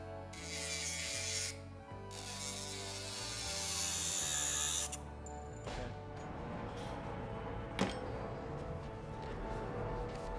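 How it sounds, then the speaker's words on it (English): A high-pitched Dremel rotary tool whines and grinds through a steel Allen key, steady at first, then shifting to rougher cutting with a sharp scrape near the end. "then you cut it with a Dremel, something like this"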